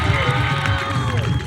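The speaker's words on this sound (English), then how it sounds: "big round of applause for lovely Tua" Crowd cheering and whooping for a resort entertainer, a brief loud burst of voices with clapping mixed in.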